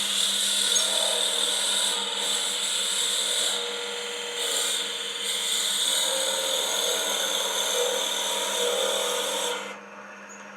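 A power drill bores into a wooden container, giving a steady high whirring grind with brief dips as the bit is eased in and out to clear chips, stopping near the end.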